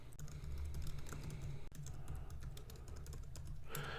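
Computer keyboard keys clack in a quick, steady run of typing, close-miked and quiet, with no voices.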